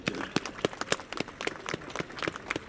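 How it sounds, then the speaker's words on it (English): A small outdoor crowd claps at a statue unveiling at Belfast City Hall, a thin, scattered patter of individual hand claps with no voices over it. "give him another round of applause there"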